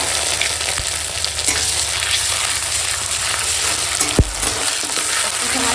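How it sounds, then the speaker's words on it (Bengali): Onion and green chillies fry in hot oil, a loud, dense and continuous sizzle with one brief knock near the end. "পেঁয়াজ কাঁচা লঙ্কা একসঙ্গে ভেজে নেবো"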